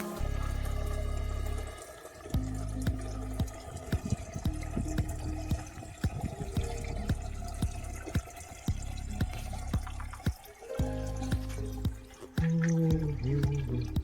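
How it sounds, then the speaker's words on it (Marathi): A tap trickles a thin stream of water into a jar, a close, steady gurgle and patter with small drips, interrupted by a couple of brief shifts in the flow. "थोडंच पाणी येत आहे."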